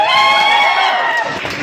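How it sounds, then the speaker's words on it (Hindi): Audience applause and cheering for an actress at a Bhojpuri interview event, a loud, dense wash of clapping from a close crowd that holds steady before thinning slightly at the end. "मैं चाहता हूँ एक जोरदार ताली इनके लिए बताइए।"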